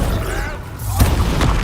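A Bombarda blast spell detonates in Hogwarts Legacy, a deep boom around the one-second mark followed by a second thud, over a busy, loud backdrop of combat effects.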